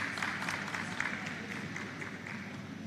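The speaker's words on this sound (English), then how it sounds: "Please keep clapping as she comes up on stage." Audience applause at a finance series event in Nigeria, steady dense clapping from a seated crowd filling the whole stretch at an even, moderately loud level.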